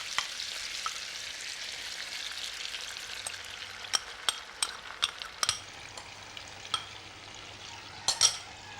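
Kidneys sizzle and fry in a pan as devil sauce goes in, a steady close hiss with scattered small clicks and pops toward the end; no talking.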